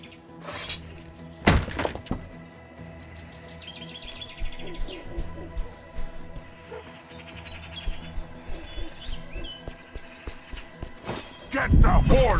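Hooves clip-clop from a horse in the video game Achilles Legends Untold, mixed with chirping birds, sharp impacts and occasional game voices, growing louder near the end.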